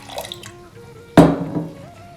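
Water poured into a pan while cooking moong dal payasam, a brief splashing rush that starts abruptly, fades into a trickling pour, then settles, heard alone and close.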